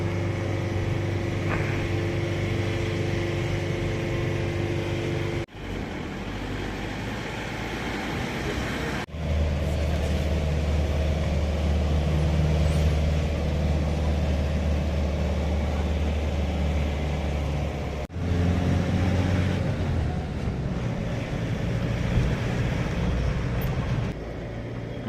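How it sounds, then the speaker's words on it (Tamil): Heavy peak-season traffic in Shimla, with vehicles queued in a long line: a continuous low rumble of idling engines and passing cars close by, steady throughout, without speech. "கிறிஸ்மஸ் நியூ இயர் டைம்னால எவ்வளோ ஹெவி டிராஃபிக் பாருங்கள்"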